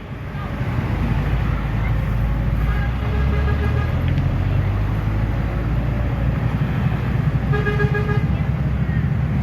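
An Epastar bus passes on the steep mountain road at Panorama 1, Sitinjau Lauik, with its engine roaring loud and close and a horn sounding in repeated toots, and wind and other traffic noise behind.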